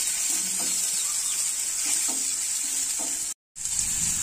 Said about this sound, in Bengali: পাস্তাটা ভালো করে নাড়াচাড়া করে নেব